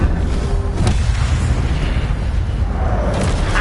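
An Incendio fire spell in Hogwarts Legacy erupts in a loud, close whooshing blast that roars steadily for a few seconds, with no talk over it.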